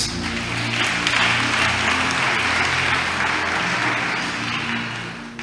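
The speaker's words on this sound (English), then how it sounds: "clap for Jesus Christ." A church congregation claps steadily and loudly through a sermon, a dense, sustained wash of hand claps that swells and then eases slightly toward the end, with no voices over it.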